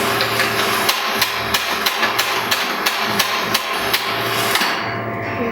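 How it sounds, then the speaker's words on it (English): A used espresso portafilter is knocked against a hard edge to empty out spent coffee grounds, giving a steady series of sharp, evenly spaced knocks over a low background hum. "I'm just going to bang it on here, get all the used coffee grounds out"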